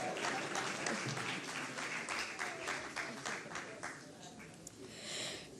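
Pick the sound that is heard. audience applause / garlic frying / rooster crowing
audience applause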